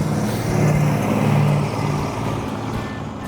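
A 1972 Dodge Charger Rallye fitted with a 318 V8 rumbles steadily nearby, its low engine drone swelling briefly and then settling back to a continuous idle-like hum.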